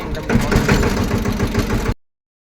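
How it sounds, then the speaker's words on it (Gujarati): A loud tractor engine rumbles steadily at idle for about two seconds, then cuts off abruptly into silence. "એક ટ્રેક્ટર બીજું આલી બાજુ ત્રીજું ચોથું ટ્રેક્ટર છે"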